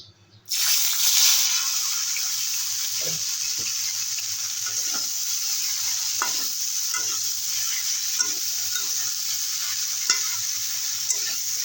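Loud, constant sizzle of food hitting leftover fish-frying oil in a pan, a steady frying hiss with occasional stirring clicks.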